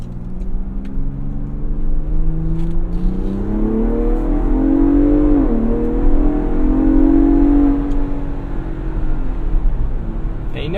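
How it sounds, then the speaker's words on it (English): A 2022 Ford Bronco Raptor engine revs up steadily, the pitch climbing as it accelerates, with a continuous close-up drone and faint road noise. "so I'll give it a little gas"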